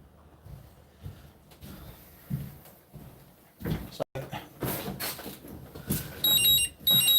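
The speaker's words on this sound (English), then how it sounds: "Just wait for that battery to stop beeping." Short, high-pitched electronic beeps from a gel blaster battery repeat near the end, above shuffling handling noises and thumps; faint and intermittent at first, then clearer.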